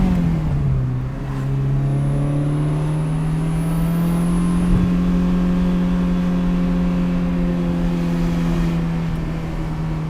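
From inside a 1989 Ferrari 328 GTS with the windows down, the engine drones loudly and steadily as the car drives, its pitch rising slightly early on and then holding through wind noise.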